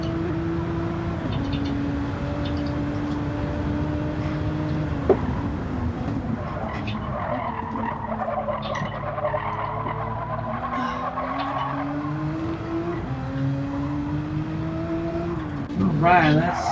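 A black, yellow and red Porsche race car laps a circuit during qualifying, its engine note steady and droning, rising and falling through gear changes, with faint background voices.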